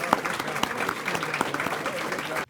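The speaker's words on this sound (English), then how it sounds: "if everyone could give her a round of applause for being my partner in crime" Audience applause for the speaker's wife at an awards ceremony, a dense burst of many hands clapping, with a few sharp claps standing out, that cuts off abruptly at the end.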